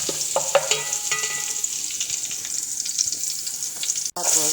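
Garlic frying in a pan until golden brown, a steady bright sizzle with occasional spatula scrapes and taps, close and continuous.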